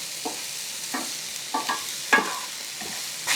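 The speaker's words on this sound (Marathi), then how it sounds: "भाज्या शिजवून घ्यायची गरज नाहीये, मिनिटभर फक्त परतल्या." Diced bell pepper and corn with a little salt are stirred in a pan, giving a handful of quick scraping strokes over a faint, steady sizzle.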